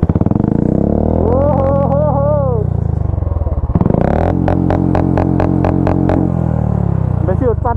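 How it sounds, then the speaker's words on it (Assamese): Motorcycle fitted with an aftermarket valvetronic exhaust, revved up and down in rising and falling sweeps, then fired in a fast series of sharp loud blips close by, with a final quick rev at the end. "এইটো শুনক ইয়াৰ বাইকখনৰ মাত। এই এগজষ্টটো মই কৈ কৈ ইয়াক কিনোৱালোঁ মই।"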